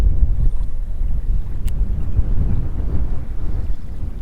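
Strong wind buffets the microphone out on the water while fishing from a boat, a loud, constant low rumble with gusty fluctuations and no voices.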